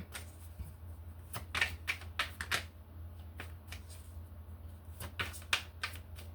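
Oracle cards riffle and slap in quick, crisp bursts as they are shuffled and drawn, close and fairly quiet, with no talking.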